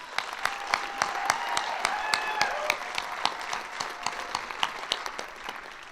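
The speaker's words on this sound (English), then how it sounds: "a round of applause for everyone who's involved" An audience at a film premiere applauds, a modest crowd clapping with distinct individual claps, steady and fairly close.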